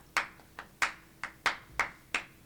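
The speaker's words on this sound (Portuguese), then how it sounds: "nós fazemos o ritmo nas palmas" Rhythmic flamenco palmas, about eight crisp hand claps in a steady, slightly uneven beat, close and clear against a quiet room.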